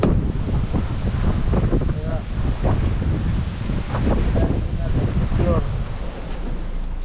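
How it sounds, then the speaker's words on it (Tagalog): Strong typhoon wind roars and buffets the microphone without letup, with a loud low rumble and faint voices underneath. "Lakas ng hangin. May bagyo."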